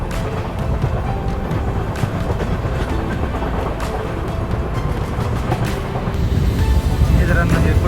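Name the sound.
train passing at station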